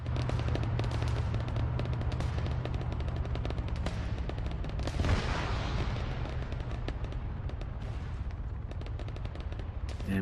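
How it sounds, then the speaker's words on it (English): Gunfire across a King of the Hill battle in the military shooter Arma 3: dense, continuous bursts of automatic fire and scattered shots, some near and some distant, keep up loudly for the whole stretch with no talk. "listening out for the gunfire to try and tell where people are from the sound"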